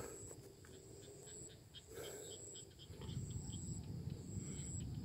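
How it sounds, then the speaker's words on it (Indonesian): Frogs croaking near the Gembong reservoir by the Jering river in Pati, a faint outdoor chorus of soft rasping calls mixed with insect chirps and a thin high whine, all distant and low in level. "Itu suara katak kedebuk"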